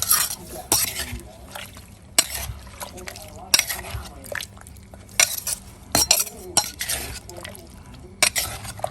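A spoon mixes a spicy squid and shrimp salad with parsley and water mimosa in a bowl, giving intermittent wet clinks and scrapes in bursts, close by, with a voice talking between the strokes.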